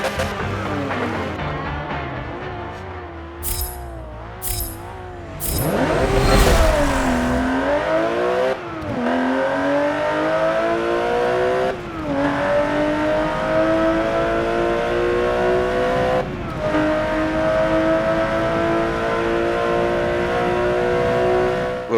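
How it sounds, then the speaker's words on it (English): A 2016 Porsche Cayman GT4 in a Forza Motorsport 7 drag race, its engine revving, then accelerating hard with a climbing tone broken by several sharp gear shifts, loud and close without talk. "Here we go, 2016 Porsche Cayman Gt4."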